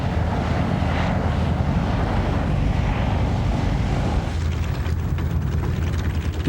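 Grumman HU-16 Albatross flying boat in flight, a loud, steady engine roar with wind buffeting that shifts slightly toward the end, with no voices.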